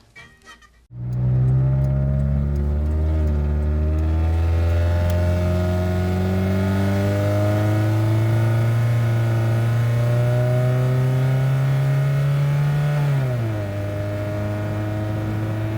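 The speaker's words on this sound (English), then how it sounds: "There was no muffler on this car to begin with" A Saturn car engine with no muffler fires up and revs loudly, a raw, rumbling roar that climbs in pitch, holds, then drops back to a deep idle.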